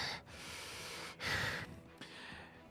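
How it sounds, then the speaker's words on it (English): Heavy breathing effect played during a tabletop role-playing game session: three loud, rasping breaths in succession, close and breathy, with no talking over them. "you immediately hear heavy breathing behind you"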